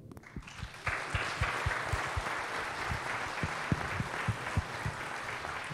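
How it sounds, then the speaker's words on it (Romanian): Heartfelt applause fills a university auditorium after a lecture on performance mountaineering, starting with a few distinct claps and swelling into steady, close crowd clapping. "Felicitări și din toată inima aplauze."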